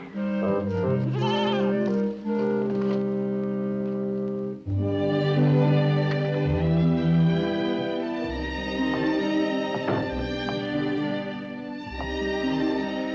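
Goats bleating on a farm in a valley, a steady run of wavering, overlapping bleats that sound close and fairly loud throughout, with no talking.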